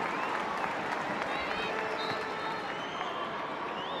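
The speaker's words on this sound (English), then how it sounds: "Back in Middlesbrough, the crowd applauds." Applause from a stadium crowd in Middlesbrough before a women's international football match, England against Canada, a dense steady clatter of clapping that holds evenly throughout with murmured crowd noise beneath.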